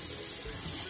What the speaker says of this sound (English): Next, you're gonna take a little bit of water